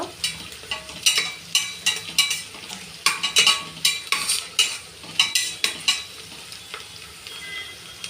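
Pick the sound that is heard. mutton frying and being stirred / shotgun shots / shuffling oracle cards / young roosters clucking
mutton frying and being stirred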